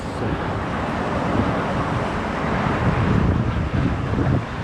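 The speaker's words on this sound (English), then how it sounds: "there's a nice wind blowing" Steady wind rushes across the microphone of a runner doing an outdoor lap around the Imperial Gardens on a morning of about 30 degrees, a constant loud buffeting roar with no talking.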